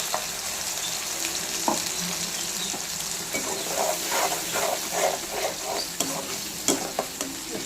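Mashed tomato fries with golden-browned onions in a pan, sending up a continuous hissing sizzle, with repeated scraping stirs and a few sharper utensil knocks running through it.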